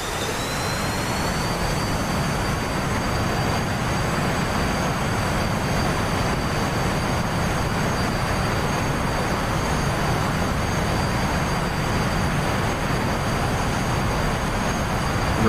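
Alpha Jet engine roaring at full throttle on the takeoff roll in the DCS World flight simulator, a loud steady broadband rumble with a high whine held throughout, no voices.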